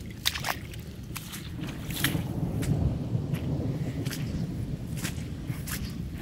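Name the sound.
rainwater running down like a river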